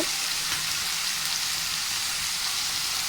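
Tomato chutney with fresh coriander sautés in a pan, giving a steady, dense frying sizzle that holds evenly and fairly loud for the whole stretch, with no voices.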